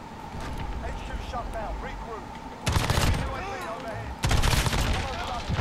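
Rapid automatic gunfire in the Modern Warfare beta shooter game erupts in loud, sharp bursts over continuous battle noise, with two heavy volleys standing out near the end.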